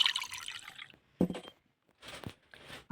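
Tea is poured into a glass, a brief bright liquid trickle followed by a few soft clinks and light splashy pours, close and fairly quiet with pauses between.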